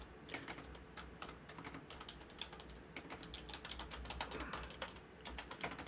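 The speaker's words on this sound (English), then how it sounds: "I will type it for now" Fingers type on a computer keyboard, the quiet, rapid clicking of keys coming in uneven bursts and short pauses, close by and alone.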